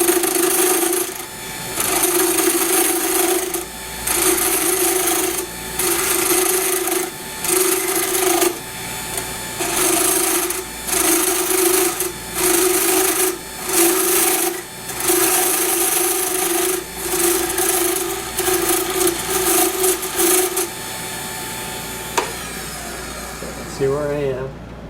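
Wood lathe spinning a chopstick blank at about 1500 RPM, a steady whine broken by repeated bursts of gritty cutting or sanding scrape in regular pulses, with a rising spin-down sweep at the end.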